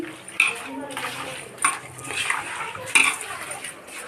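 Chicken biryani with browned onions being stirred in a pot over heat, a metal spoon clinking and scraping against the pan in a few sharp knocks amid soft sizzling, while someone talks throughout.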